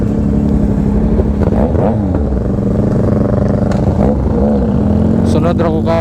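A 2021 Yamaha MT-09 with an SC Project exhaust revs hard close by, its loud, gritty drone rising and falling through several quick throttle blips.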